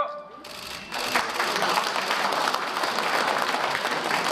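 A crowd bursts into sustained applause after a brief pause at a national memorial ceremony, steady and fairly loud, many hands clapping at once.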